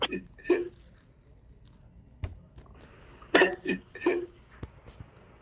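A man's hiccup-like noise, a sharp vocal catch heard several times in short, irregular bursts, close and fairly loud over a quiet background.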